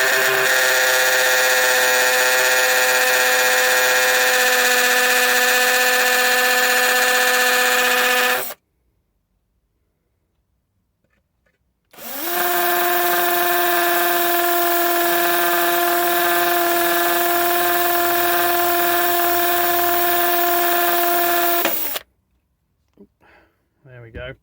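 Power drill boring holes into a cracked plant pot, its bit cooled with water, whining steadily for about eight seconds, stopping, then running again for ten seconds before cutting out.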